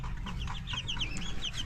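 Chickens give a busy string of short clucks and chirps near at hand, layered over a low background drone, with no one talking.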